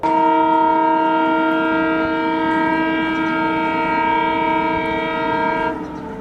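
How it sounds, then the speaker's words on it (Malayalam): A passing train sounds one long, loud, unbroken horn blast at a station, steady and harmonic for nearly six seconds before it cuts off, leaving rumbling rail noise. "ട്രെയിൻ ചില സ്റ്റേഷനുകളിലൂടെ കടന്നു പോകുമ്പോൾ ഒറ്റ നീട്ടിയുള്ള ചൂളം വിളി കേൾപ്പിക്കാറില്ലേ"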